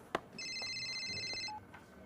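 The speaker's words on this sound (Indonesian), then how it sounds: "Sebentar, ada telepon masuk." An incoming telephone call rings in a short electronic trill lasting about a second, close and clear, with a few faint clicks around it.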